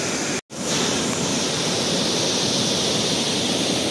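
Steady broadband rush of water at Cachoeira do Quilombo, a waterfall, loud and continuous after a brief dropout near the start, with no talking.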